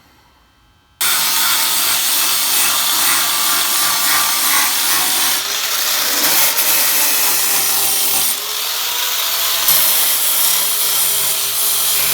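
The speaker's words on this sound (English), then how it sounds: "That's all welded up. We'll grind that all clean." Power tool grinding down welded patches on a Dodge Ram rocker panel, a loud, steady abrasive whine that starts abruptly after a brief quiet moment and runs continuously with slight shifts in pitch.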